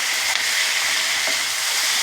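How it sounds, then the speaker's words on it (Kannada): Three tomatoes go into a hot pan for spicy chicken sambar, setting off a loud, continuous hissing sizzle for a couple of seconds. "ಇದಕ್ಕೊಂದು ನಾನು 3 ಟೊಮೊಟೊ ಹಣ್ಣು ತೊಗೊಂಡಿದ್ದೀನಿ, ಇದನ್ನು ಇದಕ್ಕೆ ಸೇರಿಸ್ತೀನಿ"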